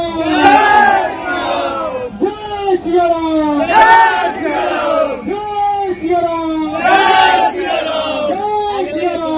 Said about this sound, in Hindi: वहाँ भी जय श्री राम के नारे लग रहे थे